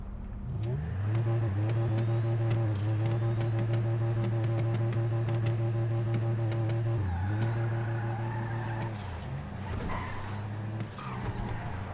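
Lampadati Pigalle engine in a video game, a steady low droning hum with harmonic layers that dips and recovers around mid-clip as the revs shift, continuous and close throughout.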